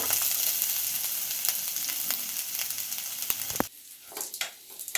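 Mint and coriander leaves frying in a pan for chutney, a steady close hiss and crackle that cuts off abruptly near the end, leaving a few faint clinks.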